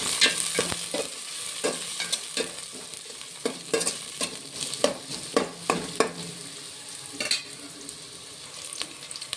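Onions and green chillies fry in a pan with a steady sizzle, while a spoon stirs them in repeated sharp scrapes and clacks against the metal, close up and without talk.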